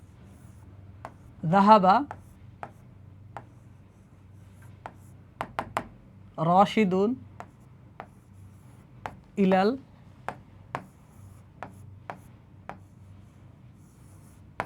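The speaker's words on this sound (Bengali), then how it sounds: "আমি একটা বাক্য লিখি এখানে" A sentence being written on a board in a classroom, with sparse, faint scratchy taps spread over the stretch while someone speaks in short bursts over them.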